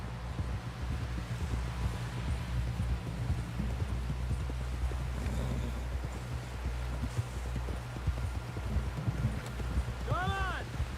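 A horse gallops with steady clip-clop hoofbeats in Red Dead Redemption 2, heard under wind and rustling, with voices speaking throughout.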